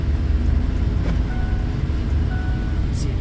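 A Roush Ford F150 pickup bought at auction drives along with a steady low engine and road rumble throughout, heard from inside the cab, with faint creaks and rattles.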